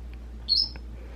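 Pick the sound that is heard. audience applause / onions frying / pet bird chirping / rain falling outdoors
pet bird chirping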